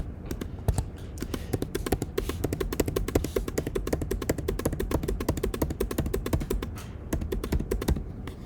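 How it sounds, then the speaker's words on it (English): Data being keyed into a TI-84 calculator: rapid, close plastic button taps in a steady stream of clicks with occasional brief pauses, and no talk. "then we'll type in our data into the list"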